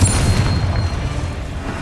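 Confringo spell blast in Hogwarts Legacy, a loud, deep booming burst that hits at once and rumbles down over under two seconds, close and alone.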